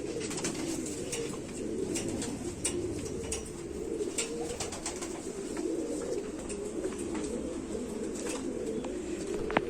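Pigeons cooing steadily in a low, warbling murmur, several breeding-pair birds together, with occasional flutters and clicks over a constant background.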